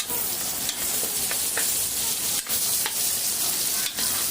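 Onion frying in a hot pan for pancit, a steady loud sizzle running throughout with occasional scraping clicks of stirring, close up and alone without talk.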